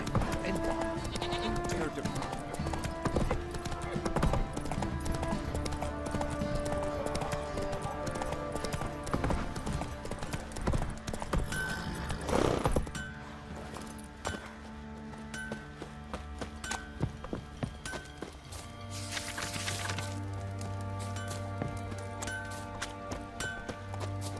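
A horse's hooves clip-clop steadily on a road in The Witcher 3, an even trotting rhythm running under background music and occasional voices, with a brief rushing swell partway through.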